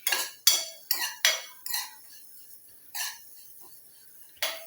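A spoon scrapes and clinks against a pan while black cumin seeds roast over a low flame, a few distinct close knocks and stirring scrapes separated by short quiet gaps.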